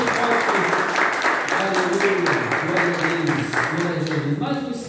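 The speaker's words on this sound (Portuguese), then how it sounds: "Vamos aplaudir a Jesus, irmãos" Church congregation applauding at a Sunday service, a steady wash of many hands clapping throughout, with voices talking and calling out over it.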